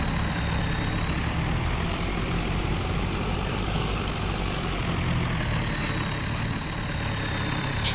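A farm tractor's engine idles in a steady low rumble with a slight whine above it, loud and constant with no voices.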